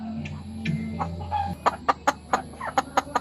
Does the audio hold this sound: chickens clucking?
yes